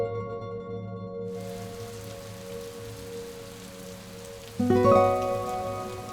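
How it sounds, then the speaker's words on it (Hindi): Heavy rain falls steadily as a dense hiss after a brief quiet start, with a louder burst of rattling near the end and no speech. "ये तो तेज बारिश शुरू हो गई।"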